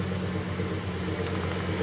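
A 2011 Ford F-150 FX4 engine with a Spectre 9976 cold air intake, given some gas, a steady, close, throaty low rumble held evenly without voices.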